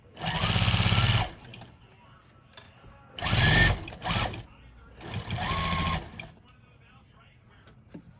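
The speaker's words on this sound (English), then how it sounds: "now I'm just going to stitch all the way around" A sewing machine stitches around the edge of a fabric bowl cozy made with batting, running in three loud bursts of a second or so each with pauses between, as the maker pivots at corners.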